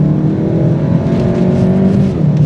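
A Volkswagen Golf GTI Clubsport with a bigger turbo accelerates hard, its engine droning loudly and rising steadily in pitch throughout, heard from inside the car.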